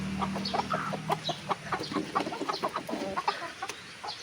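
A hen clucks repeatedly in short, rhythmic bursts close by, a steady string of farmyard calls with no talk over them.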